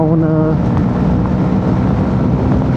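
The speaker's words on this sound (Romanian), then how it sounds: "dar bate vântul rău din față" Heavy wind buffeting roars loud and steady against the microphone while riding a motorcycle at top speed on a motorway into a strong headwind, masking a low engine drone, with a brief voice-like tone at the start.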